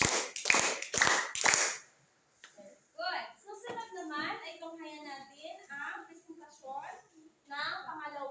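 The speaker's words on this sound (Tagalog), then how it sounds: "Bigyan natin ng 5 palakpak ang unang grupo" A group of children claps five quick sharp times in unison, loud and close, before a speaker carries on talking in a classroom.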